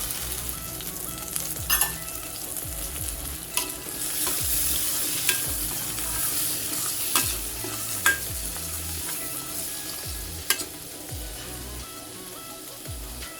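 Onion, green chilli and boiled peas fry in oil for rava kichadi, a steady close sizzle broken by repeated scraping stirs of a spoon across the pan, no voices.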